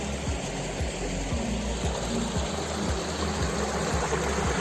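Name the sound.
flowing stream water near Seetharkundu waterfall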